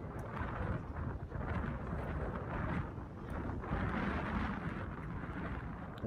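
Strong gusty wind blowing across an outdoor tennis court during a stormy university final in the Var, a steady loud roar with buffeting surges throughout and no talk.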